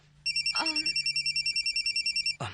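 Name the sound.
mobile phone ringtone, incoming call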